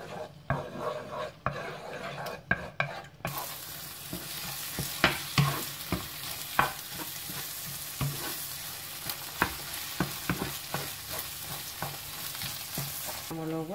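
Eggs frying in oil in a pan, being stirred, with mushrooms in garlic nearby: a bright steady sizzle after a quieter start, punctuated by frequent spoon clicks and scrapes, no voices.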